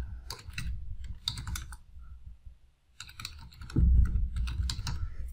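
Typing on a computer keyboard comes in quick bursts of close, crisp keystrokes, with short pauses between groups of key presses and no talk.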